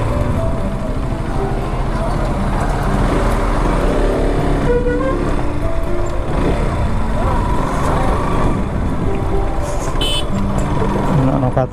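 Vehicle engines and road traffic at Sarat market, a loud continuous rumble of passing cars and trucks with faint horn and beep bursts, voices murmuring underneath throughout.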